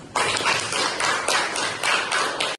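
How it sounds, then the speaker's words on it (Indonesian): Classroom applause from a group of students, a dense burst of clapping close to the listener that runs steadily for about two and a half seconds and then cuts off abruptly. "Beri tepuk tangan."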